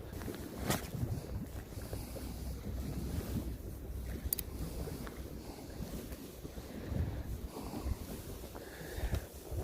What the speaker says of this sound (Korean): 야, 바람이 많이 부네요